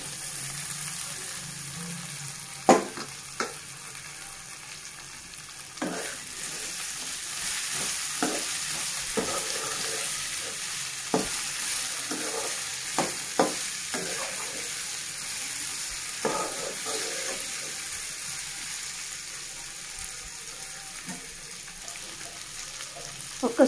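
Potato pieces fry in oil in a pan, a steady close sizzle broken by scattered spoon clicks and scrapes as they are stirred, with no talking.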